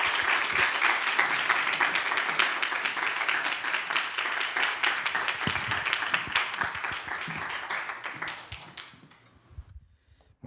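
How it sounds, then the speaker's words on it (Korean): A church congregation at a Friday worship service applauds to welcome a visiting pastor to the pulpit: dense, steady clapping from a full room that carries on strongly for about eight seconds, then thins out and stops near the end. "힘찬 박수로 이선목 목사님 모시겠습니다."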